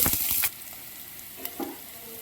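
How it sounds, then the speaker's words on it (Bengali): Loud broadband sizzling of chopped onions hitting hot oil for about half a second, then a quieter steady crackle with a couple of soft stirring knocks. "পেঁয়াজ কুচিগুলো ভালো করে আমি ভেজে নিচ্ছি"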